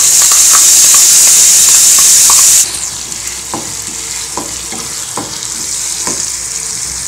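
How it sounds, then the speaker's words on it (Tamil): Ground chutney sizzles loudly in a hot tempering of asafoetida and curry leaves, then the frying drops quieter as a spoon stirs it with repeated light scraping taps. "அதனால் கொஞ்சம் நேரம் ஒரு 2 நிமிஷத்துக்கு இதை இப்படி வதக்கினோம்னா நல்லாயிருக்கும்."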